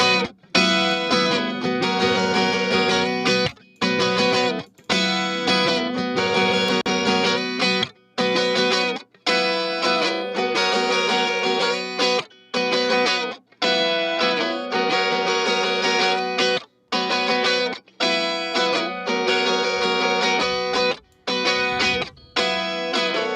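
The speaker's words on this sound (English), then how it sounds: "Let's listen to this verb guitar. That's crazy loud and crazy harsh." Loud, harsh distorted reverb guitar pitched up an octave, playing a choppy phrase, bright and buzzy, with short gaps between repeated strummed bursts.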